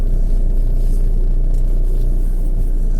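A car that is not a pickup bumps along a rough track, giving a steady, loud low rumble of engine and suspension with no break and no voices.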